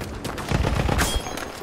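Rapid gunfire in a World War I video game, a fast run of close machine-gun shots from a Lewis gun during a battle on Verdun Heights, loud and alone without talk.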